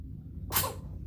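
A single short sneeze bursts out over a steady low background hum and fades quickly.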